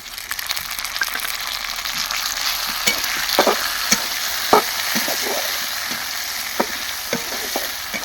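Chopped onion and tomato fry in a hot pan, a steady close sizzle broken by scattered clicks and scrapes of a spoon stirring the mixture, with no voices.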